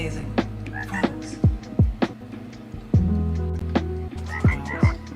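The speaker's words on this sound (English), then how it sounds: "Frogs." Cartoonish frog croaks from an animal-painting web app, a series of close, loud croaks repeating every second or so over a steady musical background, with no talk.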